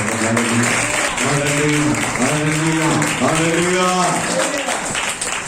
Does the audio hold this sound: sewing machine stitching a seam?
no